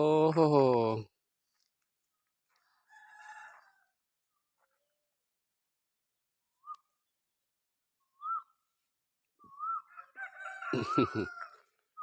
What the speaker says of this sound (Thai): ทั้งเหมียว ทั้งไก่ก็มาด้วยกันเลย